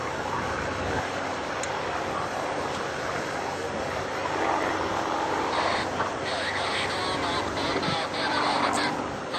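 An early Yak series World War II fighter plane performing at an airshow, with a steady, loud engine roar and broad rushing noise that holds throughout and swells slightly near the end.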